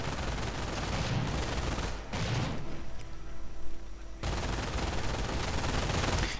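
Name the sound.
MG42 machine gun firing in a video game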